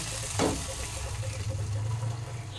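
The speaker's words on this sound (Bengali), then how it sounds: "এখন আমি এর মধ্যে সিদ্ধ করা পাঁচমিশালির যে ডালটা রেখেছি, সেটাকে আমি এর মধ্যে দিয়ে দিচ্ছি" Boiled mixed five-lentil dal poured into hot fried spice masala in a cooker, a brief wet splash and sizzle near the start settling into soft, quiet frying.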